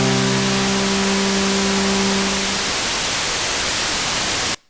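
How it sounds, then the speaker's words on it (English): A Korg minilogue synthesizer's white noise generator gives a broadband hiss, at first mixed with steady buzzing oscillator tones that fade out, leaving pure static before it cuts off abruptly. "Here's what the white noise generator sounds like."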